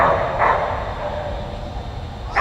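A mixed breed dog at a large agility competition gives a couple of sharp barks near the mic over steady arena hubbub and distant background noise.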